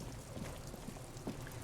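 Rain in the video game Disco Elysium, a steady soft patter of raindrops falling on surfaces, low and continuous with no voices.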